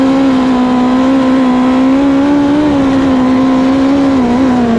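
A midget race car at the Australian Midget Title on a dirt track, its engine droning loud and steady at high revs with slight pitch wavering, heard close as if onboard, no voices.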